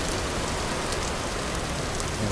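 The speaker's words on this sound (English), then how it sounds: "Oh goodness me, the rain is loud, isn't it?" Heavy rain pours outdoors in a steady, dense hiss, loud and unbroken with no voices over it.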